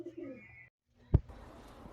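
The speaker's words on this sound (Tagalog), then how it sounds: "Yun na nga mga kalapatis." Pigeons coo softly nearby, with a low murmuring call and then a sudden thump or flap, over light background noise.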